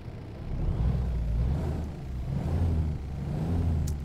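A Caterpillar 3406 diesel in a Kenworth W900A truck in American Truck Simulator, idling with a steady deep rumble and a low throbbing pulse, heard alone.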